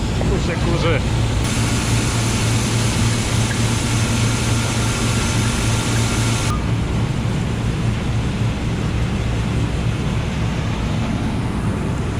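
A farm tractor engine runs with a loud, steady drone during the grain harvest, continuous throughout, with people talking over it.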